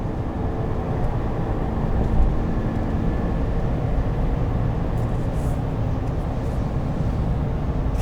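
A 2020 GMC Sierra AT4 Carbon Pro pickup with a 6.2 V8 and 10-speed automatic accelerating, heard from inside the cab as a steady, loud, deep engine and road roar that holds without breaks.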